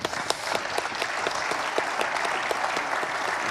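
Brief applause from a parliamentary audience at a regional political forum, a bright burst of clapping with a few distinct claps standing out, steady and fairly close for a few seconds.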